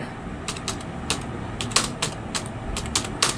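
Crisp, close computer keyboard typing in short irregular bursts of keystrokes while a product name is entered on a website, fairly loud and without talk.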